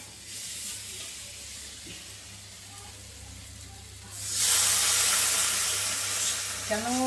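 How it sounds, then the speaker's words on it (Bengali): Water added to a gravy cooking in a pan sets off a sudden loud, hissing sizzle that follows a quieter simmer and holds steady to the end, with someone talking faintly early on. "কষা হয়ে গেছে এবার দেবো জল"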